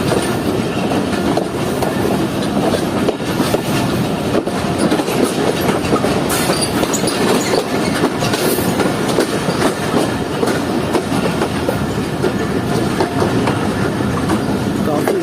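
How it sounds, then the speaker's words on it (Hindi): The Jaffer Express passenger train rumbles along its rails with a continuous loud roar and rhythmic clickety-clack of wheels over joints, heard close and steady, with faint voices mixed in. "प्लेटफॉर्म नंबर 2 पर लग रही है हमारी ट्रेन"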